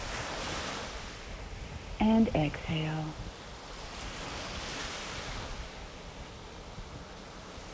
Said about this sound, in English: And as you listen to the ocean waves, let go of all tension you may be holding in your body.